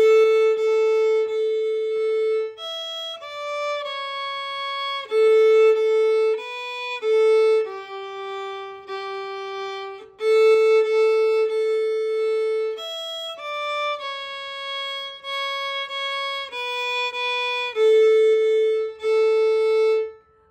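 A solo fiddle plays part B of the folk tune Old Joe Clark, simple and steady, with each note held evenly for two beats in a regular rhythm and nobody talking.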